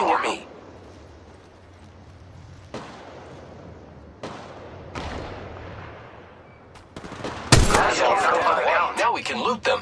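Gunfire erupts in an Apex Legends Mobile firefight, with several sharp, separated shots followed by a denser burst near the end, close and loud under voiced squad callouts.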